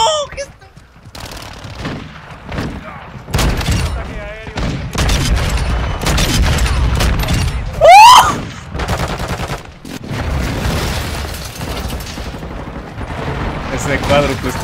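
Bursts of rapid gunfire and booming shots from Call of Duty: Modern Warfare II, including a Lockwood MK2, clustered and punchy, mixed with excited talking and game effects throughout.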